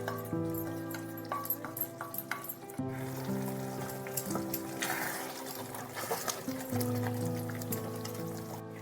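Fried potatoes tipped into a frying pan of peas for North Indian nimona, setting off a steady sizzle with soft clattering and stirring, alone and fairly close throughout.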